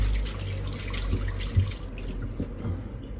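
Water running from a kitchen faucet while tomatoes are washed for pork sinigang, a steady broadband rush with small splashing bumps, close and continuous throughout with no talk.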